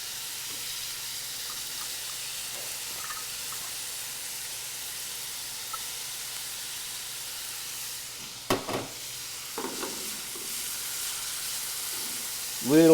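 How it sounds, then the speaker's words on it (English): Garlic and leeks sautéing in a little oil in a pan give a steady, even sizzling hiss throughout, with a few utensil knocks and clatters in the latter half. "now we'll get to sauteing the garlic and the leeks. Put a little bit of oil in the pan."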